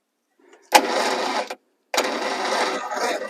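A 1962 MG Midget engine is cranked by the starter in two bursts, each a loud, close, rhythmic churning that chugs evenly with compression, separated by a short pause.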